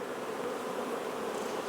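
Honeybees hum on top of an open hive after a swarm, a steady close buzz with no pauses, sitting alone without voices.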